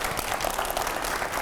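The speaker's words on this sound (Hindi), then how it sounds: "मैं चाहूंगा जोरदार ताली हो जाए" An interview studio audience breaks into loud applause, a dense steady clatter of clapping hands across the short moment.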